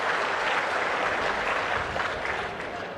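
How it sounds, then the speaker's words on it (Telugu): A crowd applauds steadily and loudly at a political gathering in Kalidindi, a dense wash of clapping that holds for the full three seconds and eases only slightly toward the end. "గట్టిగా చప్పట్లు కొట్టి అభినందించండి"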